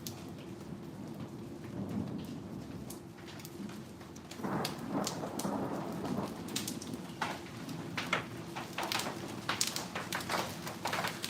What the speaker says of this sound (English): That sounds like hail.